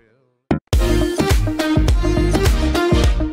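A short guitar sample loop used as extra punch at the start of a pop house track, heard as a quick stab followed by repeating plucked guitar phrases over a steady beat, loud and up front.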